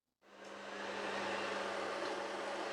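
A Eureka E20 Plus bagless self-emptying robot vacuum starts up from silence, its motor whirring up within a fraction of a second into a steady, fairly close drone with a constant hum that holds to the end.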